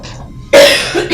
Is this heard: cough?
yes